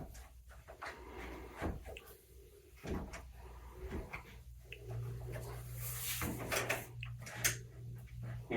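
Hotel room door on a tile floor is pushed open against a rolled towel wedged beneath it, giving a series of knocks, thuds and scraping rubs at close range, with no talking.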